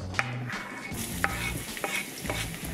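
Garlic and carrots fry in oil in a pan with a soft, continuous sizzle and periodic light scrapes of stirring, close and fairly quiet.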